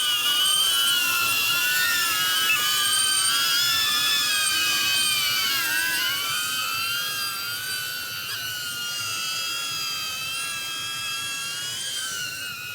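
DJI Avata drone with its propellers spinning right beside the operator, a loud, steady high-pitched whine with shifting tones that holds throughout, dipping slightly as the pitch wavers.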